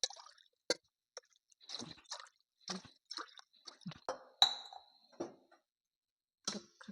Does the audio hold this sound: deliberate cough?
no